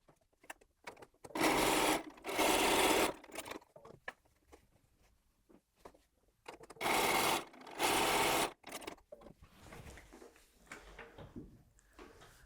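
Sewing machine stitching 2-inch quilt fabric strips together for a colourful patch quilt, running in two pairs of steady whirring bursts, each a second or so long, with quiet handling of fabric between.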